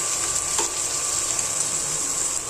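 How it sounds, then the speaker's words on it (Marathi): Turmeric tempering sizzles in hot oil during dal khichdi cooking, a dense, even crackling hiss that continues for the whole stretch, close up, with a faint clink early on and nobody talking. "आणि आता त्याच्यामध्ये ना हळद फोडणी टाकते"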